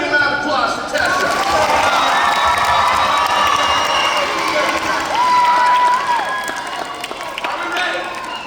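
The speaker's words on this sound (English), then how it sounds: "Everybody give a round of applause for Tessa." Loud crowd cheering and applause for a performer named Tessa, with shouting children, sustained for several seconds and then tapering slightly, with voices mixed in.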